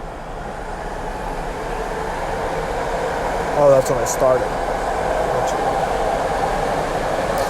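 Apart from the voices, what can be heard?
BART train passing near parked car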